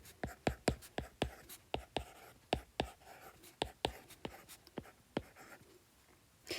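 Handwriting on paper produces a quick series of distinct pen strokes, about two dozen sharp scratchy taps in an irregular rhythm, close and quiet, with a faint whispery voice in the background.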